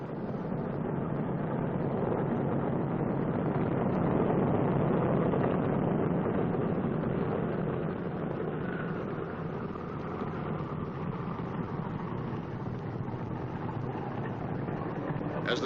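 Radial engines of a World War II B-29 Superfortress taxiing on a runway, used for steering, give a continuous low rumbling drone that swells slightly and eases, distant and muffled with wind noise.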